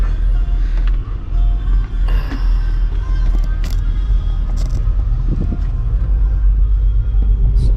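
A Toyota Land Cruiser idles at an Arizona emissions testing station, its engine a low, steady rumble close by, with a few brief clanks and ticks in the surroundings.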